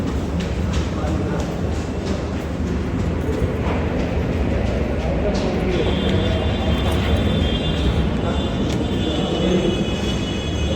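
A Borivali fast train pulls into a crowded Mumbai station platform with a loud, steady rumble and a thin metallic squeal near the end, while people talk over it.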